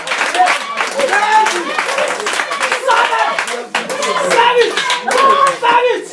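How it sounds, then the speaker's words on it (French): A church congregation claps and cheers to praise the Lord, with dense, rapid applause continuing throughout and voices calling out over it. "Acclamons le Seigneur, s'il vous plaît."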